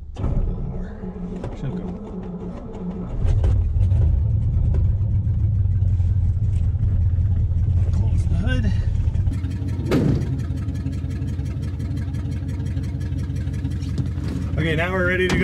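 A Flathead Ford car engine, running for the first time since 1966, idles and then pulls away, with a steady low rumble, some revving and mechanical clatter close by, plus brief rattles and knocks.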